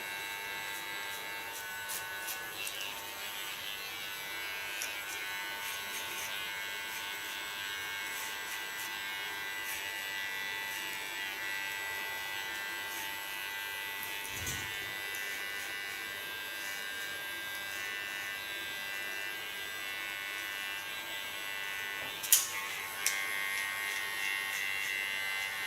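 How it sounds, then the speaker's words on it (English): An electric hair clipper gives a steady, fairly quiet buzz while cutting hair during a nape shave, running without pause and with no talking. "I also think that it reduces the sound of the clipper, because normally it makes more noise, and now it's much more quiet."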